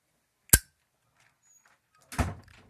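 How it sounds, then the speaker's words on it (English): Two sharp thuds of a door closing indoors, the first crisp and loud, the second heavier and followed by a brief rattle, with quiet between them. "Can you close the door?"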